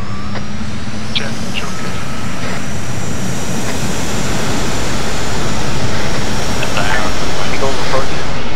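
Military jets roar overhead in a combat video game, a broad sustained rumble that builds and swells toward the end, with radio-style voices talking over it.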